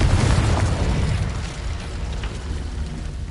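Blasting-spell explosion in the Hogwarts video game, a loud deep boom that hits at once and then rumbles and fades over a few seconds, heard alone.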